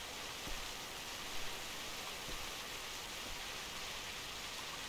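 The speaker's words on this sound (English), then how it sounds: "Ah, it's raining again." Steady rain falls in theHunter Classic, a soft, even wash of hiss with no pauses, fairly faint and heard alone.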